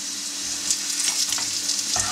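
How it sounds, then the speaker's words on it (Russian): Potatoes fry in oil in a pan with a dense, steady hiss and crackle close up, while faint scraping stirs break through now and then and no one talks. "Картофель точно так же нам надо обжарить до золотистого цвета"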